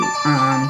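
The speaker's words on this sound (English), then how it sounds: "My phone is charging across the room and that seemed very, very loud." A phone charging alert rings out across a room, a single loud, sustained electronic tone with a clear pitch and a slight pitch shift partway through.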